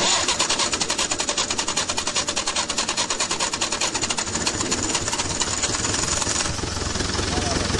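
A tractor engine clatters loudly and close in a rapid, steady knocking rhythm as it runs up, holding a continuous mechanical chug throughout.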